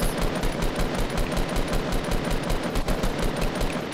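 Sustained rapid automatic gunfire in Fortnite, aimed at a wall, hammers out fast evenly spaced shots that are loud and close, with no talking over it.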